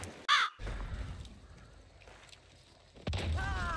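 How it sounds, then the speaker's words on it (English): Crows in the video game Hunt: Showdown give a loud, harsh caw near the start and another burst of cawing at the end, with quiet ambient game noise between. "Goddamn birds. They gave me away."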